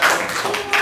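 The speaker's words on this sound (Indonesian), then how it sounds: "Beri tepuk tangan untuk Nasya nih." A classroom bursts into brief applause for a student, a dense patter of many hands clapping close by for under a second.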